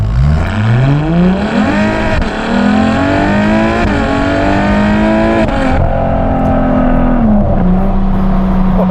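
A loud, close Ferrari F12 TDF V12 engine revs up and down in smooth rising and falling sweeps, its high-pitched mechanical howl filling the whole stretch.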